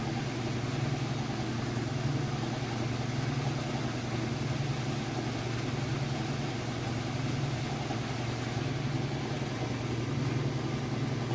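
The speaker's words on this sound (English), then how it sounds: "we're at the spin cycle, and it is at about full speed" A Kenmore top-load washing machine in its spin cycle at full speed gives a steady, smooth hum with an even low drone and airy whir, constant throughout with no talking.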